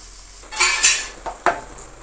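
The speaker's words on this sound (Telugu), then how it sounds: "ఇప్పుడు కొత్తిమీర వేసేసుకొని కలిపేసేసుకుందాం" A spoon stirs paneer fry with coriander in a metal pan, giving a few close clinking scrapes against the pan over a faint sizzle, with no talking.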